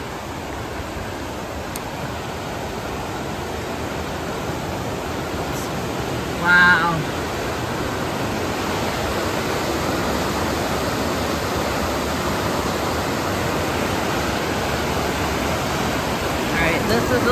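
Cold River roaring beneath a bridge on the Northville-Placid Trail, a steady loud broadband rush of fast water throughout, with a brief voice exclaiming once partway through.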